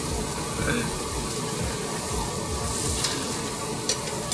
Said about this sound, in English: The garlic is grilled, look at this.